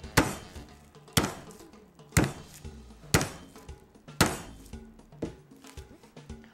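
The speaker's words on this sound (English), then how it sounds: "take a flat mallet and flatten your meat, hitting it firmly in order not to damage the meat" A flat mallet pounds a veal roast under plastic wrap in a kitchen: six firm, evenly spaced thuds, each about a second apart, heard up close with no talking.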